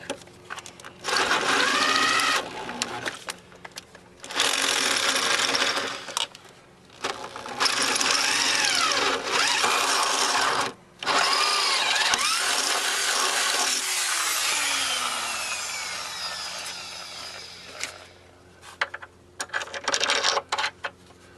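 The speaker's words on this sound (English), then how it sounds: "We'll drill the last hole." A power drill runs in several long bursts, whining steadily between short pauses, with the pitch sagging as the bit bites through material near the end, drilling a hole while repairing a shock bracket on a 2007 Ford Escape.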